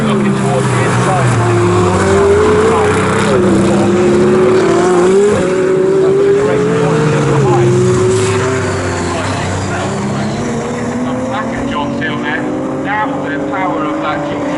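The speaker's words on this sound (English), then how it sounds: "The power of that GT3 Lamborghini Huracan dives on the inside." A Lamborghini Huracan GT3 race car engine in a GT Cup Championship race at Snetterton, a loud sustained roar with rising and falling pitch as it powers through a corner and shifts gears, with commentary talking over it.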